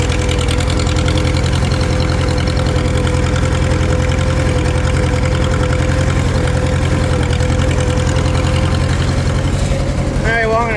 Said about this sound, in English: Yeah, she started right up once we got that new coil in there.